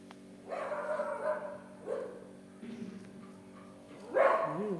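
A dog on a home outing gives a few short barks and yelps in separated bursts, fairly close but not loud, with quiet gaps between them.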